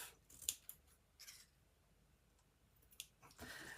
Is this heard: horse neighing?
no